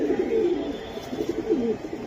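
Bezi pigeons coo in a steady, low, rolling murmur that repeats across the stretch, close and moderately loud with a faint background hum.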